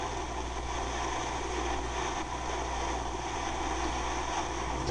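A Yamaha V-Star 1100 motorcycle engine idles steadily after the throttle is released, giving a low, even rumble that stays at a constant moderate level with no voices.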